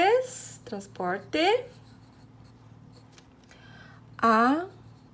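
Chalk or marker scratches across a classroom board in short bursts during a geography lesson, with a teacher's voice speaking between and over the strokes.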